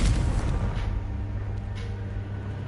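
A Confringo blasting spell in Hogwarts Legacy lands as a loud, booming explosion at the start, then a low rumbling tail fades out.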